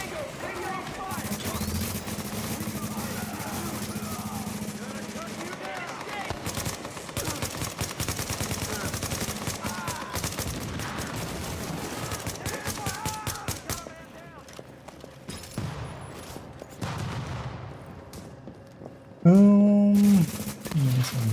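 Rapid bursts of turret gunfire in The Division 2, a dense crackling stream of shots mixed with game effects and other combat noise, fairly loud and continuing for long stretches.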